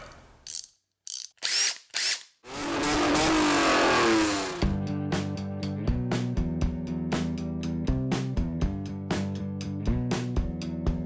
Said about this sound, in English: this beautiful 1990 Nissan 300ZX twin turbo you see before you